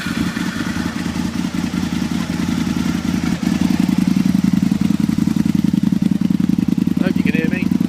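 A 2003 Aprilia RSV R 1000 motorcycle engine runs close by with a steady, rapid throbbing idle, growing slightly louder and firmer after a few seconds, with no voices over it.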